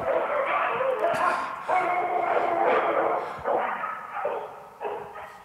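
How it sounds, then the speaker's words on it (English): Many dogs barking and yipping together in a large animal shelter room, a dense overlapping chorus at moderate distance with repeated bursts and brief dips. "you got 50 or 75 dogs in a big room. I mean, this is just a cacophony of noise."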